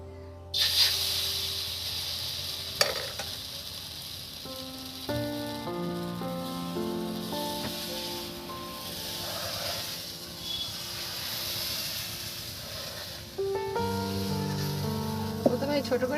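Masala dosa batter hitting a hot pan gives off a steady sizzle and hiss that runs throughout, with a voice talking intermittently over it.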